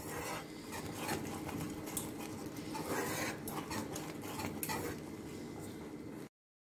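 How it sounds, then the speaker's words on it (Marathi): Bread crumbs being stirred into a caramel bread pudding mixture in a pot, giving a steady close scraping and rubbing rasp that runs continuously before stopping abruptly. "आपण थोडे थोडे ॲड करू आणि याला सतत हलवत राहू।"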